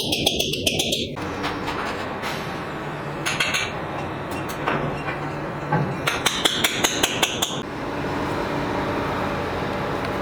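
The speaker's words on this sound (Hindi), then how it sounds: "ये रावल बोल्ट लगाने के बाद इसको अच्छी तरह पीछे से उसको ठोकना है" Rawal anchor bolts hammered into a drilled ceiling while a ducted unit is installed, with rapid runs of sharp metallic strikes in several bursts, loud and close over a steady background noise.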